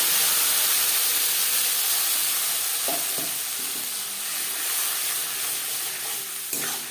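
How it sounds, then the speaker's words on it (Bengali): Whole cumin seeds frying in a small amount of leftover oil from frying tilapia fish, a steady close sizzle with a few brief crackles and a stirring scrape near the end. "মাছ ভেজে নেওয়া তেলে দিয়ে দিলাম গোটা জিরে।"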